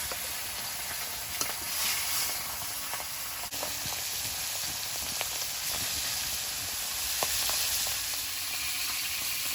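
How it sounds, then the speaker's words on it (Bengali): Oil-coated pieces of boal fish frying in a kadai of hot oil, giving a steady close hiss scattered with sharp pops and crackles, with no talk. "বোয়াল মাছ ভাজলে খুব ফাটে তেল মাখিয়ে নিয়েছি"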